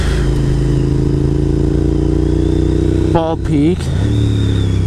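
A motorcycle rides along the road up Bald Peak, its engine droning steadily and close throughout, with a brief pitch swoop near the end as it revs, while a rider talks over it.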